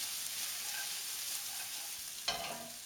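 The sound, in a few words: fried rice cooking in a pan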